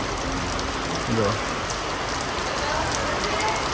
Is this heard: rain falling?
yes